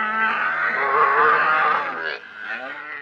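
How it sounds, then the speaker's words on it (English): A mother cow bellows at black vultures approaching her calf on a farm, letting out one long, loud, strained moo followed by a shorter, quieter one, with no voices over it. "A bellowing mama cow takes mighty offense to a couple of black vultures approaching her baby"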